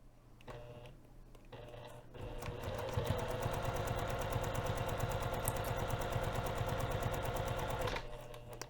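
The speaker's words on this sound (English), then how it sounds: "We're going to be sewing from one end to the other." A sewing machine stitching a bag's zipper pocket runs in a steady, rapid mechanical chatter for several seconds, starting and stopping briefly before settling into a continuous stitching rhythm.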